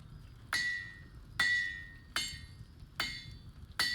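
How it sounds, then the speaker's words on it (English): Five evenly spaced hammer blows on metal ring out in a Baldur's Gate forging scene. Each sharp strike leaves a bright, clinking tail over a low background hum, with no talking. "I shall hammer it with my empty hand."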